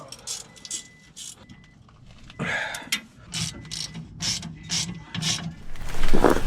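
A hand ratchet tightens a bolt on a 2017 Toyota Tacoma, giving bursts of rapid metallic clicking, several short strokes in a row, close and fairly loud with brief pauses between them.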